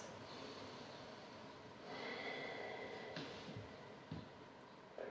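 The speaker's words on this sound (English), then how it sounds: "We'll take 3 breaths." Slow, deep breathing during a yoga hip stretch, a couple of long airy inhales and exhales close to the microphone, soft and steady with a faint background hiss and no talking.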